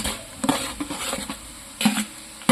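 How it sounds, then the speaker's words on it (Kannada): Onions frying in a pot for mutton biryani, with soft sizzling under intermittent clanks and scrapes of a spoon stirring against metal. "ಈರುಳ್ಳಿನ ಫಸ್ಟ್ ಫ್ರೈ ಮಾಡ್ಕೋಬೇಕಂತೆ"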